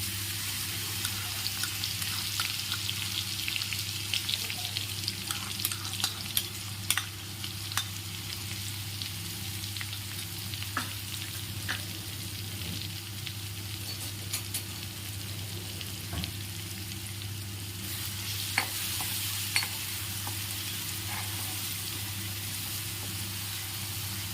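Ground masala frying and being stirred in a pan while making Marathi besan vadi, a steady close sizzle with scattered scraping and clinking stir sounds throughout, no voices.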